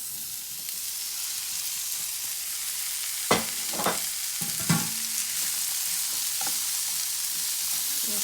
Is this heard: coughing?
no